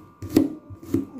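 A knife slices through peeled milkfish (bangus) on a board in a home kitchen, two firm cuts spaced about half a second apart, close and fairly loud.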